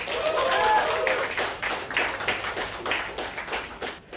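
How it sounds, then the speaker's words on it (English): A comedy show audience claps and cheers briefly as a comedian is introduced, the applause fading to scattered claps, with a few whoops over it. "please welcome with a round of applause, Mr. Sriram Padmanabhan."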